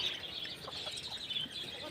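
A rooster and chickens cluck faintly in a farmyard at morning feeding, with scattered short calls over a low background hiss.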